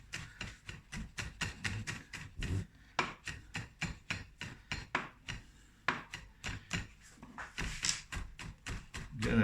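A knife chops garlic finely on a cutting board in a rapid, steady run of sharp taps with brief pauses, close and clear, for a chicken dish cooked Indian style.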